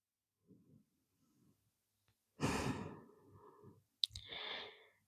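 Slow deep breathing while holding a beginner's full-body stretch yoga pose: a faint breath near the start, then a long loud exhale and a second audible breath after a short click, close and alone.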